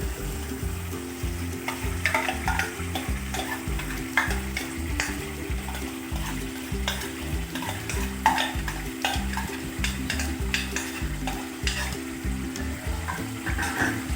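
Mutton biryani korma is stirred and fried in a pot, with a steady sizzle and repeated scraping stirs running loud and close throughout, no voices.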